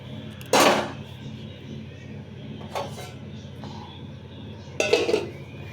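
A cooking pot gets its lid put on after a little water is added to soaking dalia, with sharp metallic clanks at three moments, a loud one first and a louder pair near the end, over quiet kitchen background.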